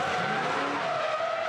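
A V8 ute race car skids with its rear brakes locked, a loud continuous tire squeal and scrub lasting the whole short moment, with no talk over it.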